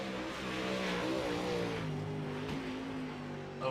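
Race cars lap steadily in a UMP modified qualifying session, engines droning and shifting pitch continuously at moderate distance with no break across the stretch.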